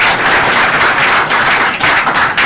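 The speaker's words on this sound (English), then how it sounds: "We're gonna clap for IG Lizen." An audience claps for IG Lizen on the Brekete Family radio-TV programme, a dense, loud, continuous burst of applause from many hands, steady throughout with no talking over it.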